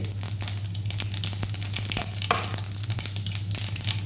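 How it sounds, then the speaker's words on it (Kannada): Mustard seeds and cumin sizzle and crackle in hot oil in a pan for tempering, a steady loud dense frying hiss with scattered sharp pops throughout, close and uninterrupted. "ಇವಾಗ ಒಗ್ಗರಣೆ ಹಾಕೋಣ ಇವಾಗ ಬಾಣಲೆ ಕಾಯ್ಲಿಕ್ಕೆ ಇಟ್ಟಿದ್ದೇನೆ ಒಂದು ಎರಡು ಟೇಬಲ್ ಸ್ಪೂನ್ ಎಣ್ಣೆ ಹಾಕಿದ್ದೇನೆ ಎಣ್ಣೆ ಕಾಯಿದ ಮೇಲೆ ಸಾಸಿವೆ"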